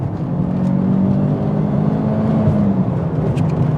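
A Peugeot 306 GTI hot hatch from the 1990s drives along, its engine note holding a steady loud hum with road rumble, rising slightly in pitch near the end.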